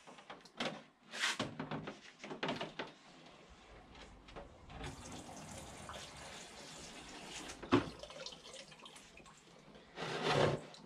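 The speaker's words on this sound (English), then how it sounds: "I'll just do a test with the sink and make sure the water's actually coming out of the drain" Water drains through a foldaway basin sink in a motorhome, gurgling and trickling in uneven bursts with a longer steady run mid-way, quiet and close, with a few louder splashes toward the end.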